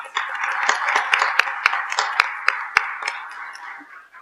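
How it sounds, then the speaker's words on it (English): An audience at a Bastrop city council meeting applauds a group of students, a steady, dense patter of clapping lasting about four seconds with a few sharper individual claps standing out before it fades. "So let's give these gentlemen a round of applause."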